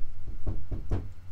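Four knocks land on a door in a quick, slightly uneven sequence, solid and close, over a low steady hum.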